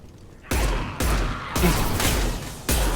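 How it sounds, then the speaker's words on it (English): Heavy gunfire on Omega in Mass Effect 2 hits in four loud, broad bursts of roughly half a second each, separated by short gaps, close and harsh with no voices over it. "Taking heavy fire!"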